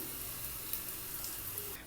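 Asafoetida sizzling in hot oil while tempering a red chili coconut chutney, a steady soft crackling fry with a few brighter pops, close and continuous throughout.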